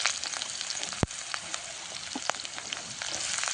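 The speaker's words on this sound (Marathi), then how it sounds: "आता अगोदर आपण जिरी मोहरी टाकून घेऊया।" Cumin and mustard seeds frying in hot oil in a pan, a steady dense sizzle with a sharp pop or crackle near the start and scattered spits throughout, close and alone.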